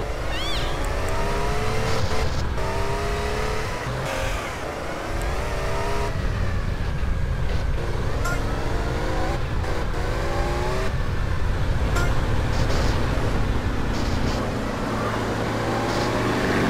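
Engines rev and race in GTA San Andreas, with a steady droning motor whine that rises and falls in pitch throughout, loud and continuous with no talking.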